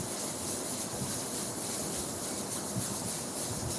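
Light-grit sanding on part of a Lasko box fan during restoration, a continuous close rough rubbing hiss with steady back-and-forth texture, no talking.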